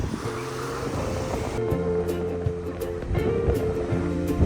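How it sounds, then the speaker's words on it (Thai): Sea waves wash onto a sandy beach at Hua Hin, Thailand, a steady surf roar with low wind rumble and no talk, loud and close throughout. "สวยอ่ะทะเล"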